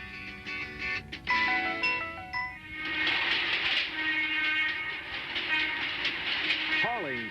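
A freight train hauling boxcars at a rail siding by the Hershey chocolate plant rumbles past with clanking couplers, squealing wheels and steady metallic rolling noise, loud and close.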